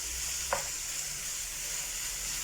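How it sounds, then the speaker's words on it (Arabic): Chicken frying in a pan and stirred until golden gives a steady, close sizzling hiss, with one sharp utensil tap near the start and no voices. "نستمروا بالتحرك لغايه ما تشحر لينا الدجاج ديالنا بدا واحد اللون ذهبي"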